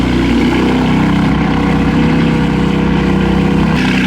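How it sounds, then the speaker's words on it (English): A misfiring BMW G80 M3 engine idles steadily and loudly at close range, its low rumble holding throughout with a slightly uneven, stumbling pulse. "but the car's still misfiring"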